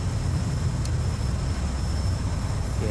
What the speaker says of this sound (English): Just like that, you're now taking the F-14 off, from cold and dark, ready to fly.